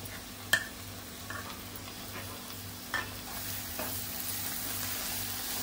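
A green masala paste fries in a pan for prawn rice, a soft steady sizzle broken by several sharp spoon clicks and scraping stirs, close and fairly quiet with no talking.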